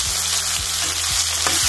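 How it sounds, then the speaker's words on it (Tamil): Chopped tomatoes sautéing in a pan for okra chutney give off a loud, dense sizzle, with a few spoon scrapes and knocks against the pan and no talking. "போட்டுட்டு இதை நல்லா வதக்கிடுவோம்"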